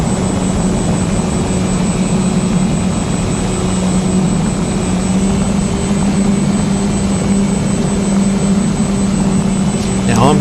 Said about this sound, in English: Now I'm flying my Twin Dream with 10 amp battery, multi-star battery on board